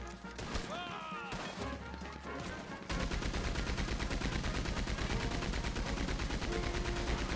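Machine gun fire in Red Dead Online, loud and sustained: scattered shots at first, then continuous rapid automatic bursts dominating the rest, with a voice talking underneath.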